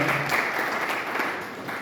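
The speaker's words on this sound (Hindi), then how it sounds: "मैं चाहूँगा कि जोरदार तालियों से उनका अभिनंदन किया जाए।" Applause from an audience at a literary book launch event in Karera, a fairly dense wash of clapping heard at moderate distance and lower volume, steady across the moment.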